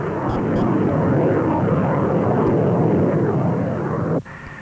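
An F-14 fighter jet flies with a loud, dense, steady engine roar close by, which cuts off abruptly near the end into a faint hum.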